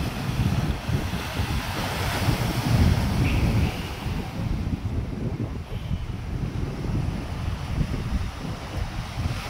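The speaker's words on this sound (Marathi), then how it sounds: "समुद्र आवाज जबरदस्त." Sea waves washing onto Nagav beach at Uran in July, a continuous rumbling surf buffeted by strong wind noise on the microphone.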